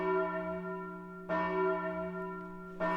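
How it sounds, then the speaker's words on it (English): An alarm bell rings out in the video game Prayer of the Faithless, two loud, resonant strikes about a second and a half apart, each ringing on with a long sustained tone. "what do they ring the alarm bell for?"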